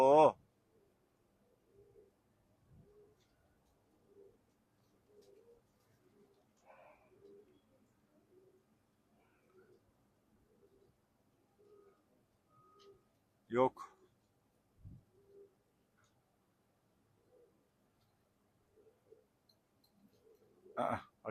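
Soft, rhythmic cooing of flying pigeons repeats steadily in the background, with a few louder bursts of someone speaking Turkish at intervals.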